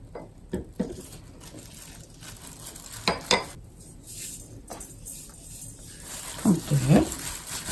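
Seasoned butterbur spring greens are gently mixed by hand with perilla oil in a bowl: soft, irregular squishing and light patting come with occasional clicks, and a brief voice is heard near the end.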